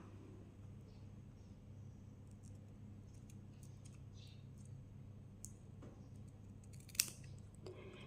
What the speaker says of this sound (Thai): อีกหนึ่งฝั่งก็พลิกกลับด้านแล้วก็ตัดให้ได้ระยะที่เท่ากันนะคะ